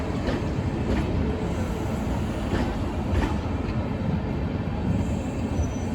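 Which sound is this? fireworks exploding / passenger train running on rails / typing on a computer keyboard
passenger train running on rails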